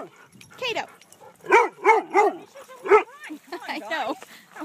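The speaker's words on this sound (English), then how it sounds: "Hey, quit barking." A dog at a dog park gives a run of loud, close barks and yips in quick bursts, some sounding whiny, with a person's voice also heard.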